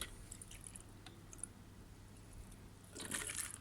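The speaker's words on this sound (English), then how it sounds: "I'll rinse out my hydrometer" Water sloshes and drips faintly while a battery hydrometer is rinsed and flushed out, with a louder burst of splashing liquid near the end.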